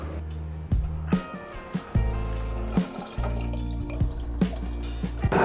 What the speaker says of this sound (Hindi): पोहा बनाने के लिए सबसे पहले हम पोहे को 3 से 4 बार पानी में से निकाल लेते हैं।